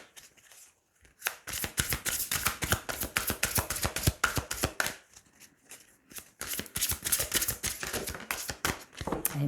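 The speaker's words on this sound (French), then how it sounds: "on va tirer une dernière carte" A deck of tarot cards is shuffled and riffled over and over, a dense run of crisp card flutters and slaps that pauses briefly, then resumes close up with no talk.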